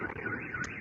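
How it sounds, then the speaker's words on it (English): Car alarms wailing on a street in Moscow, a steady electronic siren tone holding at a fairly even level, close and continuous with no voices. "Car alarms going off."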